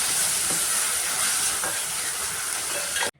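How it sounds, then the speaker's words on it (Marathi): Finely chopped onion and tomato fry in a hot pan with a loud, continuous sizzle and a few faint stirring scrapes, then the sound drops out suddenly at the end. "आता इथे बारीक चिरलेला टोमॅटो टाकायचा. टोमॅटोसुद्धा सॉफ्ट होईपर्यंत फ्राय करायचा."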